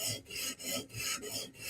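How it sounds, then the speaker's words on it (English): A Steel Will flipper knife edge is drawn across a sharpening stone in steady back-and-forth strokes, about six rhythmic rasping passes in quick succession, close and loud with no speech. "Let's sharpen it."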